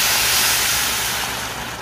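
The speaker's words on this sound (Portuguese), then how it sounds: "Deixa eu colocar água aqui, que já tá torrando aqui o arroz." Water poured into a very hot pan of toasting rice sets off a loud, steady hiss of steam and sizzle that fills the whole moment and fades slightly toward the end, with no voices.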